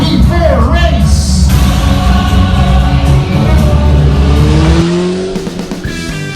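A BMW HP4 Race motorcycle engine revs loud and close, its pitch sweeping up and down over a busy, dense background before easing off near the end.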